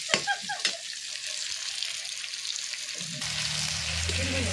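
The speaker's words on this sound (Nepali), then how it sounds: "रातो प्याज चाहिँ मजाले भुट्नुपर्छ पहिला" Red onions sizzling steadily in a hot pan for a goat head curry, a continuous loud frying hiss with a few clinks of stirring at the start and a deeper bubbling shift near the end.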